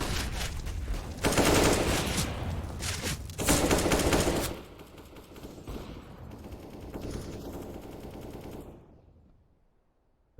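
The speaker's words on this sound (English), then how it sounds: "And you assume that Mighty Max just sprays through both of them." Automatic gunfire from a Counter-Strike: Global Offensive esports match, with loud rapid bursts in the first half giving way to quieter in-game ambience and scattered shots before fading to near silence.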